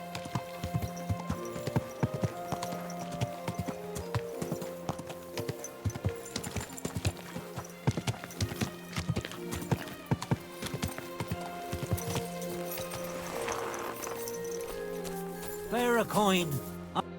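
Steady clip-clop of horse hooves on a hard surface, mid-distance, running through the clip beneath a Kingdom Come: Deliverance II game soundscape, with brief talking near the end.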